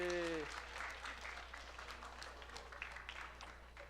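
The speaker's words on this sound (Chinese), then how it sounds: "帮他掌声鼓励鼓励" At a Christmas party, a small crowd applauds in steady, moderate clapping that lasts several seconds, following a brief held tone at the start and with voices faintly underneath.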